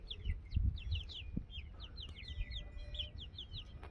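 Chickens and chicks on a homestead cluck and chirp at moderate distance, short calls repeating irregularly over steady outdoor background noise, with no talking.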